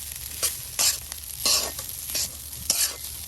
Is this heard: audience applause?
no